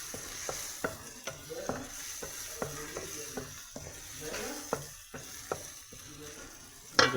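Turmeric being stirred into a sizzling egg tomato curry brings repeated spoon-against-pan scrapes and taps in an irregular rhythm over a constant frying hiss, close and moderately loud, with no speech.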